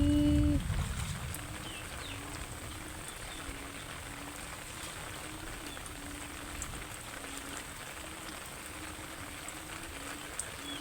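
Rain falls steadily as a constant, even hiss, with a faint repeating low tone underneath.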